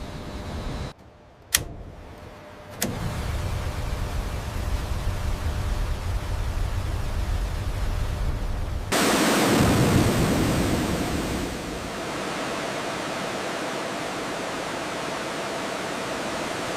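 Tupolev Tu-134 rear-mounted jet engines during an acoustic run-up: a few sharp clicks and bangs, then a steady broad roar that surges louder midway and holds at a high, even rush.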